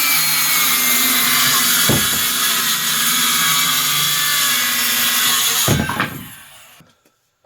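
A cordless drill with a weak, low battery whirs steadily and loudly for several seconds while building a scrap-wood bird feeder, with brief knocks partway through, then winds down and stops.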